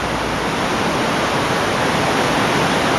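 Water rushes steadily through the Rideau Canal spillway at Long Island, a loud, unbroken broadband roar with no pauses.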